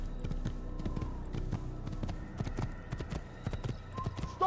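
Horse hooves clip-clopping at a steady riding pace in the Assassin's Creed video game, a continuous rhythmic patter of hoofbeats close up with faint game ambience behind.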